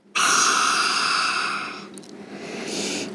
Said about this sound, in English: Breathing in through your nose and sticking out your tongue to breathe out loudly.